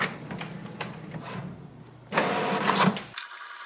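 An HP Smart Tank 5107 inkjet printer prints a page, giving a steady mechanical whirr that grows louder as the feed engages and then stops abruptly.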